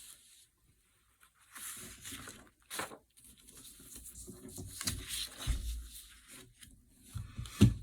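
Tape is pulled and torn to fix paper mats down on a page, producing a few short ripping and crinkling bursts with pauses between them, close and moderately loud, and no one speaking.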